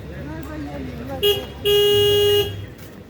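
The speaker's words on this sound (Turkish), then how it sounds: "Korna çalıyor baba." A car horn honks outdoors during a family barbecue, one short toot followed by a longer sustained blast, loud and close, with people talking around it.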